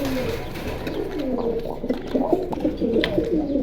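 Several pigeons at a pigeon market in Keraniganj, Dhaka, coo continuously, their low, throaty warbling calls overlapping at close range.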